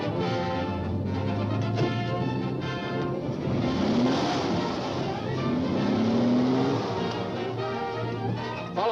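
A car driving, a continuous engine drone with rising and falling pitch swells, fairly loud and steady throughout with no talking.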